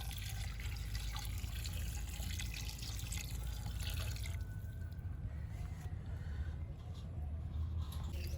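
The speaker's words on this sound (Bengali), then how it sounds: "এবার এর মধ্যে জল দিয়ে দিচ্ছি।" Water pouring into a pot of chicken gizzard biryani, a steady faint wash of trickling liquid that continues throughout, softening toward the end. No voices are heard.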